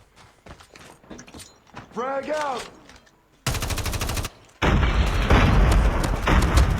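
Bursts of rapid Call of Duty Mobile gunfire, loud and sharp, following a stretch of quieter clicks and a tonal sweep; dense automatic fire fills the end.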